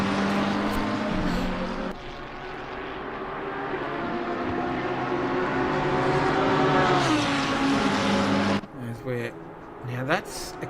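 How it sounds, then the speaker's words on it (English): A race car in a PC sim racing game at Suzuka, a loud engine whine climbing and shifting in pitch as it passes, with a commentator talking over it throughout. "Now that's a car behind"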